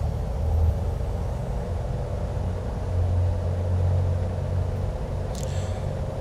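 Steady, loud drone of a Piper Seminole PA-44 twin-engine light aircraft's engines held near 1500 RPM during a parked run-up in Microsoft Flight Simulator 2020, a continuous low rumble with slight swells.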